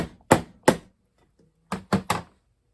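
A hammer strikes a screwdriver to drive out a shaft seal on an AV7 engine: five sharp, close metallic taps, two spaced apart, then a quick cluster of three after a short pause.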